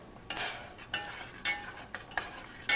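Sweetener and vanilla extract being stirred together in a small dish, with a spoon scraping in regular strokes about every half second, sharp and close.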